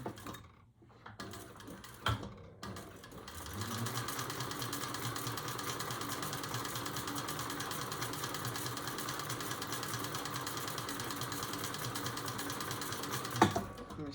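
A sewing machine stitches a fabric bag in a steady, fast mechanical whir lasting about ten seconds, preceded by a few clicks and handling sounds and ending with a sharp stop, close and quiet with no talk.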